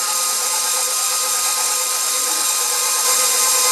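An electric stand mixer runs continuously on egg pasta dough, a steady, loud, high-pitched motor whine with a bright mechanical drone and no pauses or talking.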